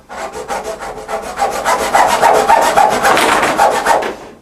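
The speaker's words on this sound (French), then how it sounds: "Je prends la scie, espérons que nous n'allons pas la casser." A handsaw cuts through a wooden board at 1.5 m in steady, rapid back-and-forth strokes, a rasping rhythm that grows slightly louder and fuller as it goes.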